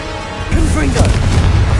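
Confringo blasting spell in Hogwarts Legacy, one loud booming explosion erupting midway and rumbling on with a crackling tail.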